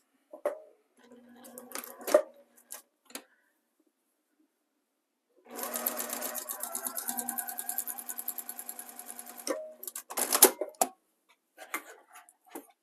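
A sewing machine stitches binding onto a quilt in one steady run of rapid needle clatter lasting several seconds, framed by scattered handling clicks and rustles before and after.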